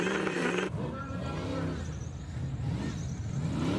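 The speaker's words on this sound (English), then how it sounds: "This is a Howard Stockler Osborne truck" Howard Stockler Osborne 4x4 trials truck with an LS7 Chev engine at an extreme 4x4 challenge, a loud engine roar that cuts off sharply, then a rougher, lower revving drone continuing under faint background noise.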